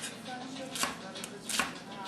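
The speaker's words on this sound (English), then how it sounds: "Okay, so I'm back to cut the rest of this onion." Knife chopping an onion on a cutting board, a few soft close taps over faint room noise, with two more distinct chops standing out.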